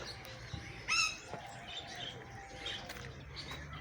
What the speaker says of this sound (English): There's parrots everywhere.